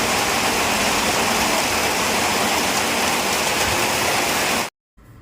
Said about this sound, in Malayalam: നല്ല മഴ കേട്ടോ അത്യാവശ്യം നല്ല മഴയായിരുന്നു